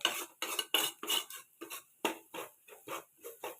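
Chicken thoran being stirred with pepper in a pan, a quick, steady rhythm of about a dozen spoon scrapes and clinks against the metal, close and fairly quiet.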